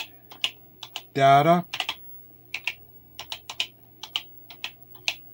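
Sharp, scattered clicks of a computer keyboard being typed on, irregular and close, with a brief voiced sound near the start and faint speech.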